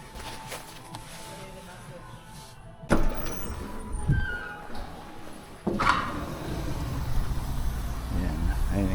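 A car just back from an oil change rolls up nearby in a dealership, with low engine rumble, a door or window sound and shifting noise, while people talk throughout.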